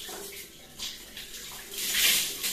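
Home shower running, a steady hiss of spraying water that swells louder near the end, close by with no other sounds.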